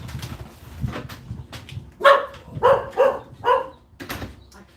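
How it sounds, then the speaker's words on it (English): Dog barking from inside a house, four or five muffled barks in a quick uneven run after a stretch of quieter room noise, heard from a short distance. "That'd be my dog there, barking from inside the house."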